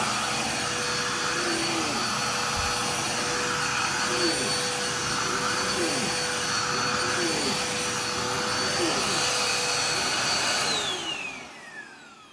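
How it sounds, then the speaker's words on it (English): A Dirt Devil Power Express vacuum cleaner with a worn belt runs with a strained, clogged-sounding whine and rhythmic surges, then winds down at the end. "And now for this crappy little Dirt Devil Power Express"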